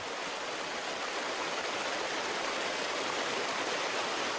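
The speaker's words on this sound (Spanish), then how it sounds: "el sonido de las aguas golpeando las piedras se hace más cercano" Steady broadband rush of river water splashing over rocks in the Colombian Andes-Amazon massif, close and continuous throughout, with no voices.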